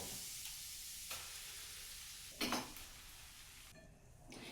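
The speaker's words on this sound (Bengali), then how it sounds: "এবার এটাকে ভালো করে ভাজতে থাকবো।" Ground green pea paste mixed with cooked ginger spice masala sizzles steadily in a hot kadai, a soft continuous hiss broken by a few louder scraping stirs, with no talking.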